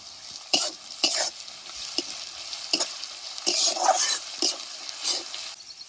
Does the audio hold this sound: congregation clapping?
no